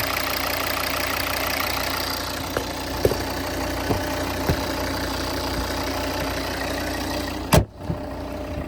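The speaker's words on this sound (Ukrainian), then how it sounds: "Ось так це виглядає, 5 циліндрів, двигун просто муркоче." A 2012 Volvo V50 R-Design with a 2.0 five-cylinder 130 kW diesel and automatic gearbox idles steadily and close up, a smooth even rumble with a few faint ticks and a brief sharp click near the end.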